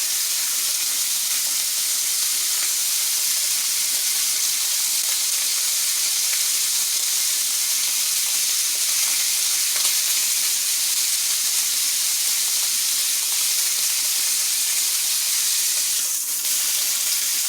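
Food sizzles and fries steadily in a pan on medium-high heat, a loud, continuous hiss that holds without pause and carries no voices.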